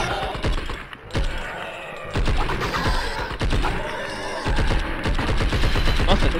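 Rapid bursts of video game gunfire in Blood and Bacon crack and rattle in quick succession, loud and close, with short pauses between volleys.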